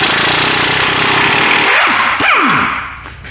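A power tool spinning hard on a 17 mm bolt while working on the steering rack of a 2017 Hyundai Santa Fe, a loud sustained whirring roar that winds down sharply near the end, close up with no talk.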